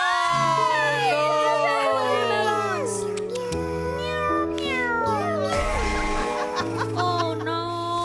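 A voice imitates a cat, meowing repeatedly in a high, sliding pitch over sustained music and crowd noise on a live TV variety show.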